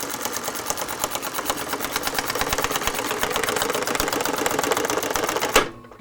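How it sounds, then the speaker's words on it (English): Cylinder arm sewing machine fitted with a titanium needle stitching in a rapid, even mechanical clatter that holds steady for several seconds and then stops abruptly. "So as I start sewing"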